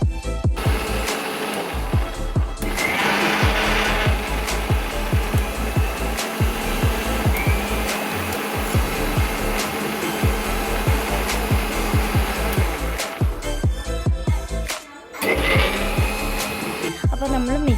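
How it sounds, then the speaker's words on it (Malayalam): An electric mixer grinder blends a pineapple shake with frozen milk, giving off a loud, steady whirring roar that runs almost continuously, with a few brief dips as the motor pauses. "നമുക്കപ്പം മിക്സിയിൽ ഒട്ടും തരിയില്ലാതെ നന്നായിട്ട് അരച്ചെടുക്കാം."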